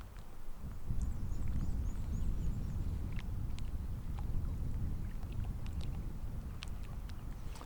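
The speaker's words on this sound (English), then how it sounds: "I'm gonna keep paddling around." Canoe paddling on a lake: soft, irregular paddle strokes and water splashes close by, with light wind noise and a few faint bird calls in the background.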